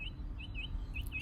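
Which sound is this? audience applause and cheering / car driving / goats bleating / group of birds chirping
group of birds chirping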